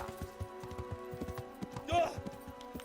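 Horse hooves clop in a steady, rapid trotting rhythm in the video game Kingdom Come: Deliverance, near and clear, with a brief voiced sound near the middle.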